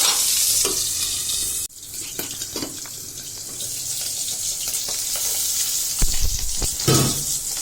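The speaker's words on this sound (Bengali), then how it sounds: "এই যে মাছ ভাজাচ্ছে" Rohu fish frying in a pan, a steady broadband sizzle with crackling bursts and a couple of louder spatters near the end, no talk.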